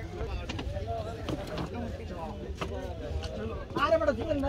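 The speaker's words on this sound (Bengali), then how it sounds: "শাহিদ ভাই, তিনি নৌকা চালাবেন, আমাদেরকে নিয়ে যাবেন" A rowing boat, steered by one boatman, pushes off into the flooded Ratargul swamp forest: soft paddle splashes and knocks of wood, faint and intermittent beneath nearby voices talking.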